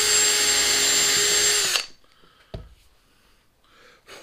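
A small 1/16 inch bit drills into wood on a lathe project, a steady high-pitched power drill whine that runs loud for under two seconds and then stops abruptly, leaving a few faint clicks and handling sounds.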